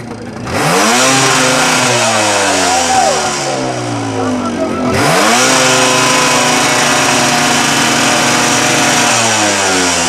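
A custom motorcycle with a very loud exhaust revs repeatedly close by, sharp blips climbing and dropping back to a rumbling idle, with two big rev bursts and a voice faintly under it.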